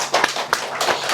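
A church congregation claps in thanks during a Sunday worship service, a dense, roomy patter of many hands in a steady burst with no pause.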